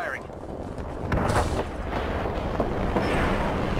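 Gunfire in the battle royale game Apex Legends: dense, booming shots and rumbling blasts run continuously at steady loudness for the whole stretch, with a brief speech-like fragment near the start.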